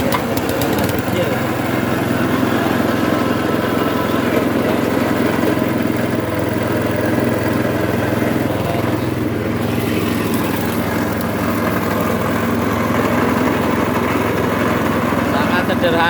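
A modern sugarcane juice machine's engine runs at a steady idle-like drone, loud and continuous throughout the clip, with no break in its rumble.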